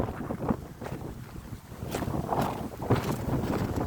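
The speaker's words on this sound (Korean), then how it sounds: "우와 바람이 거세게 붑니다" Strong wind gusting over an open reservoir in winter, a steady roaring rumble with microphone buffeting that swells and surges throughout, with no voices.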